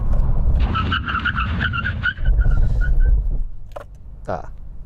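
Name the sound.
Nissan GT-R R33 hard braking from 60 mph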